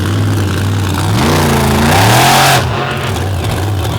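A monster truck engine at the All-Star Monster Truck Tour at Lake Erie revs hard, climbing sharply to a loud peak and then dropping back to a rough idle.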